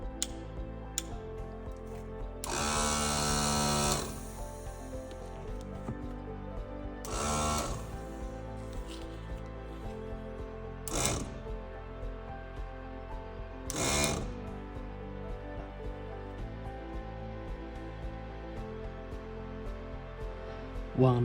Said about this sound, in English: The goal is just to push fluid into the pump on first startup to prevent it from running dry.